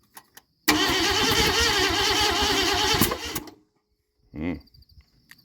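A 1972 Ford F100 truck engine cranks hard for about three seconds with a rapid rhythmic chug, loud and close, then stops; a short second burst follows after a pause.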